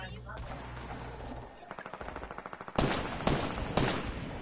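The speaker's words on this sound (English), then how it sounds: "Keep shooting him." Shooter-game gunfire arrives as a rapid automatic burst followed by several loud, heavy shots close up, with a few game sounds before it.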